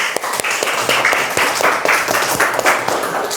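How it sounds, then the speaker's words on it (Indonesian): Classroom applause from a group of pupils, a brisk scattered clapping that runs steadily for a few seconds at close range. "tepuk tangan untuk semuanya"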